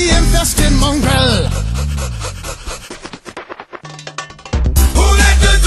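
A dog pants in quick, rhythmic breaths mixed with loud swooping cartoon-like tones and other sound effects, then the noisy backing returns at full volume.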